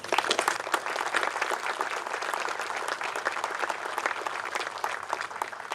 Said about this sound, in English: A round of applause for the heroes at home.